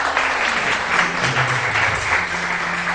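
Studio audience on a Pakistani television morning show breaks into steady, dense applause that fills the room at full volume and carries without pause from start to finish.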